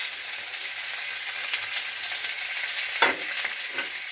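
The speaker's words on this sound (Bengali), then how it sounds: "পেঁয়াজগুলো একটু লাল করে ভেজে নেব আমি" Chopped onions frying in oil with a bay leaf, a steady close sizzle with faint stirring and one sharper clatter near the end, no voices.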